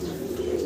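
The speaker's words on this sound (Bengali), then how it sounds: "হেলমেট কবুতর দেখাচ্ছি, ইয়েলো এবং রেড কালারের ভিতরে আছে।" Yellow and red helmet pigeons at a pigeon farm coo in a low, steady, close murmur that runs unbroken through the short moment, with no voices.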